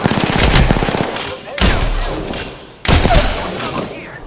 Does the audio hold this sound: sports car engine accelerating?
no